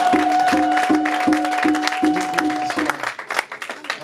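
A church congregation at a Sunday service breaks into applause and cheering, a dense burst of clapping with a steady repeating musical tone underneath that fades after about three seconds.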